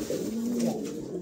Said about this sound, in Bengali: চমৎকার এক জোড়া কবুতর মাশাআল্লাহ, দেখার মতন।